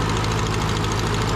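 The engine of an over-80-year-old Ford 9N tractor runs steadily up close, a loud, even, throbbing chug with no voices.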